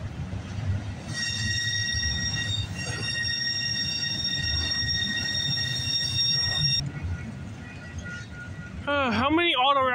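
A night freight train rumbles past near West Toronto, its cars grinding steadily on the rails while a sustained high wheel squeal rings out for several seconds, fairly close, with a voice speaking near the end.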